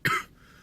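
A single short, sharp cough from a person who is sick with a cold, close and fairly loud, then quiet.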